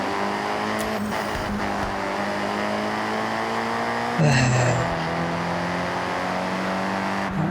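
A Subaru driven in the racing game Forza Horizon 6 hums with a steady engine drone, with a sharp shift in pitch midway, and no voice over it.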